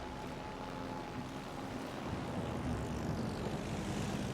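Propeller carrier planes from the Shokaku in World of Warships Legends droning steadily overhead, a continuous engine hum with a faint rising tone, moderately loud and without speech.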